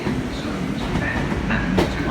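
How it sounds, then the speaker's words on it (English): A train at Exeter St David's station, heard as a steady rumbling rail noise with clattering wheels and a faint high squeal near the end, fairly close and continuous. "This will be the train that will get me to Newton Abbot."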